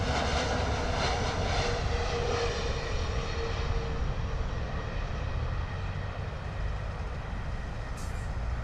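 An airliner lands at London Heathrow Airport, a steady close rumbling roar of engine and rushing noise that holds level throughout with no talking.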